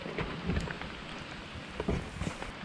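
Steady rain falls outdoors on a farm, a continuous hiss with scattered heavier drops and low rumbling gusts, fairly faint and with no voices.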